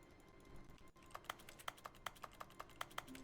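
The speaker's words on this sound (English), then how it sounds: "I love how everything I touch makes a keyboard sound" Keyboard clicks from touching objects in The Stanley Parable sound as a quick, even run of about a dozen taps, faint and clean with no talking.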